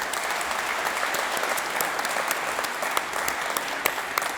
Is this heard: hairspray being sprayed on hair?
no